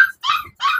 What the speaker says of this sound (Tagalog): Chow chow.